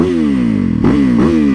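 A 2019 Yamaha YZ450FX supermoto's single-cylinder engine revs up close and loud, its buzzing tone dipping and climbing through a couple of quick blips of the throttle.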